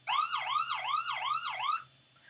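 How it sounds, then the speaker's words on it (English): A police siren wails in four quick rising-and-falling sweeps, clear and prominent, then cuts off, leaving a faint low hum. "they can learn, oh, police siren"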